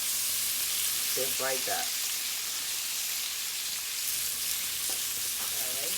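Chicken sliders and bacon sizzle steadily on a grill, a loud continuous hiss throughout, with a person speaking briefly over it.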